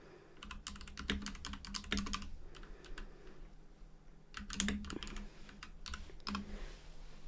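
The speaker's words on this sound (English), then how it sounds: "Typing with claws is pretty, difficult." Quick bursts of clacking keystrokes on a computer keyboard, uneven in rhythm with short pauses between flurries, close and fairly quiet.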